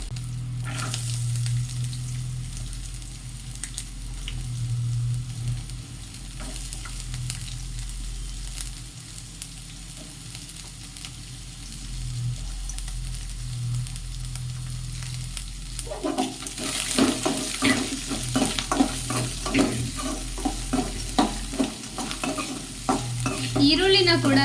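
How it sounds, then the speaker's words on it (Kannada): Onions frying in a hot pan, a steady sizzle that turns busier and louder in the final stretch as they are stirred, with scraping and clattering against the pan. "ಈರುಳ್ಳಿನ ಕೂಡ ನಾನು ಚೆನ್ನಾಗಿ ಫ್ರೈ ಮಾಡ್ಕೊತೀನಿ."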